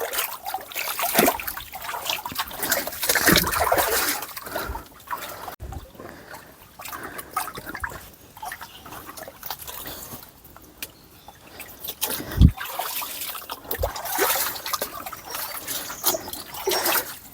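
Water trickles and gurgles steadily close by in a traditional village irrigation channel, a continuous liquid flow with small splashes and no voices.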